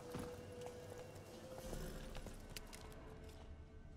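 Horse hooves gallop in The Witcher 3 Wild Hunt, a steady, continuous clip-clop running throughout beneath a dense wash of outdoor game ambience.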